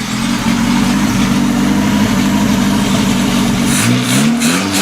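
The engine of a monster trike runs after a carburetor rebuild: a loud, close, steady idle with a low rumble, then a few quick revs near the end.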